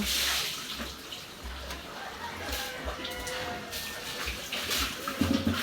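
Irrigation water runs and splashes steadily, a continuous rushing flow close by with some faint background noise.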